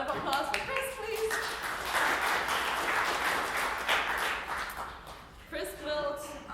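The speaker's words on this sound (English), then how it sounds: "Round of applause for Chris, please." A conference audience applauds a presenter coming up to the stage, a sustained burst of clapping from the crowd that swells and then tapers, with a host's voice heard before and after.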